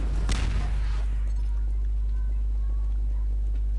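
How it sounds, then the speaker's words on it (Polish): A single sharp mine explosion in the video game Half-Life 2 right at the start, quickly dying into a low, steady rumbling hum. "mamy minę i bum"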